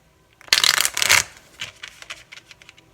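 A deck of tarot cards is riffled and shuffled close by, with a dense papery burst for under a second followed by softer, scattered card flicks and taps.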